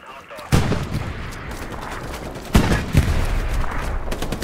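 Heavy cannon and artillery shots boom in the World War II shooter game Hell Let Loose during a defensive battle, three loud blasts spaced a second or two apart over rumbling battlefield noise.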